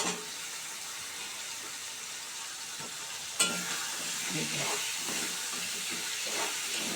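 Potatoes and pumpkin fry in a pan with a steady soft sizzle and hiss. A sharp clack sounds midway, followed by light stirring scrapes.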